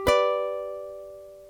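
A single ukulele pluck from an intro riff rings out clearly, then decays slowly into quiet, played alone up close.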